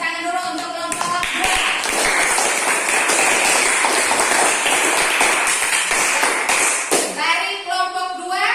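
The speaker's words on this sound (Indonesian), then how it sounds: "kita berikan tepuk tangan dulu untuk kelompok 2" A school class applauds a student group, a loud burst of quick, close clapping that starts after a voice, holds for several seconds, then stops as talking resumes.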